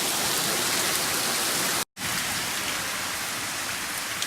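Steady rain pours down on a backyard, a dense, even hiss that holds close and loud throughout, cut by a single brief dropout partway through.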